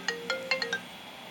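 An electronic phone ringtone plays a short melodic run of five clear, fairly loud tones, then stops, leaving a quiet room.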